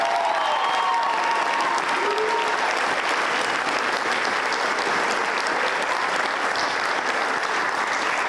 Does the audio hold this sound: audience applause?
yes